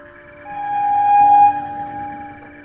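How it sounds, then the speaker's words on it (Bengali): A train horn sounds far off on a silent night, one long steady tone that swells, holds, then fades and trails away. "মাঝে মাঝে দূর থেকে নিজের গন্তব্যে চলা ট্রেনের হর্ন রাতের নীরবতাকে কিছু সময়ের জন্য ভেঙে দিচ্ছে"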